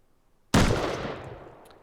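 A single sharp gunshot in the video game Rust cracks out of near silence, loud and close, followed by a ringing decay that fades over about a second.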